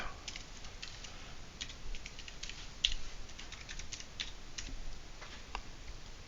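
Quick, light taps on a computer keyboard as a password is entered, a faint irregular run of close clicks with brief pauses between them.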